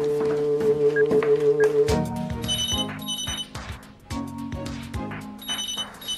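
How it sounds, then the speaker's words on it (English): A ringing alarm-like electronic bell repeats over a background of music, moderately loud and insistent, sounding as a telephone ring in a children's television scene. "Can someone answer the phone, please?"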